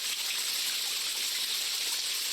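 Shower water running in the video game Spirit Hunter NG, a steady, even hiss of spray that holds unbroken and fairly loud throughout, with no talking.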